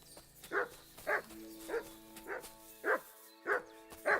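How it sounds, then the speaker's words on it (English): A dog named Mutz barks at a ruin in Kingdom Come: Deliverance 2, seven evenly spaced barks at a moderate distance over a faint droning game ambience. "Good dog, Mutz."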